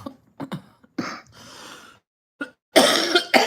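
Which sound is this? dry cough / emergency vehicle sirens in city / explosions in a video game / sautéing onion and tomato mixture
dry cough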